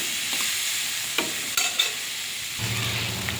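A spice paste of cumin, coriander and chili sizzles in a pan as it is stirred for a rohu fish curry with potatoes. The frying hiss is soft and continuous, with a few sharp scrapes of the spoon and no talk.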